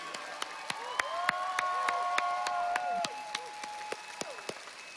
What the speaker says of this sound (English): let's give one more huge round of applause to these exceptional achievers, our top 25 business growth winners for Asia Pacific